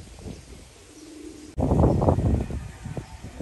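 Racing pigeons at a loft coo low and soft close by, a few rounded coos with faint chirps mixed in and no talking.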